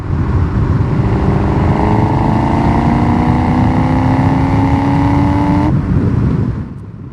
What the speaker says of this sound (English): this one does have aftermarket exhaust as far as a Borla catback, so it sounds really good going down the road